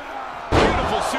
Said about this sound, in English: Beautiful suplex.